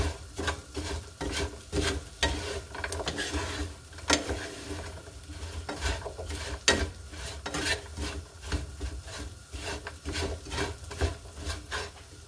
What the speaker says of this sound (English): we will just continue to stir fry it and not walk away from it